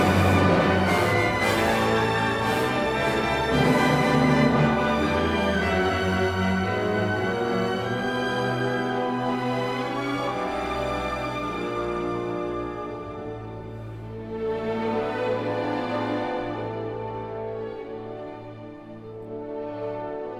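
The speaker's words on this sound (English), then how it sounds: "So when it's played by the real orchestra," A full orchestra plays an excerpt from Tchaikovsky's Symphony No. 5, rich sustained strings and brass swelling continuously for about twenty seconds, loud and dense, with no voices.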